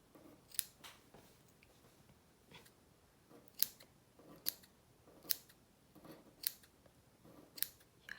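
Scissors snip yarn while trimming a handmade Santa Claus figure with its beard and loops, giving about ten crisp, separate cuts at an irregular pace, close by and fairly quiet.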